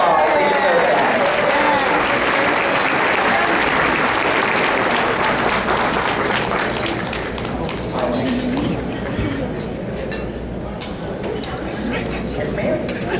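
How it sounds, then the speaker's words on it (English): A scholarship luncheon audience gives a loud, dense round of applause that fills the room, sustained throughout and tapering slightly toward the end, with some background voices. "let's give them another wonderful round of applause"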